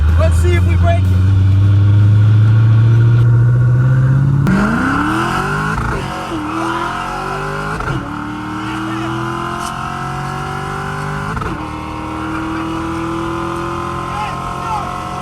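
A 1967 Mustang engine revving hard on slicks, loud low roar climbing in pitch with several abrupt power shifts, each gear change dropping and rebuilding the drone, close by.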